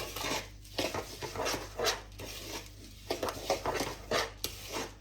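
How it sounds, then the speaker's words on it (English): Flapjack mixture of oats, butter and golden syrup stirred in a bowl, soft, fairly quiet rhythmic scraping and thick rubbing strokes repeating every half second or so. "Then give it a really good stir."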